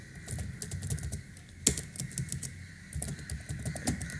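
Commands typed on a computer keyboard, quick bursts of close, crisp key clicks with a sharper keystroke midway and short pauses between runs, no talk.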